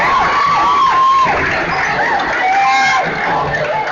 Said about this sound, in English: the crowd gives a cheer